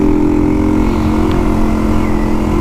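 A Suzuki DR 200 enduro motorcycle engine drones loud and close, with a steady, even roar and no clear rise or fall in pitch for the whole stretch.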